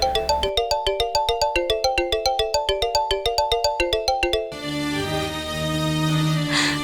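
An incoming call sets off a phone ringtone: a bright, rapid electronic melody of repeating beeps that plays for about four seconds, then stops.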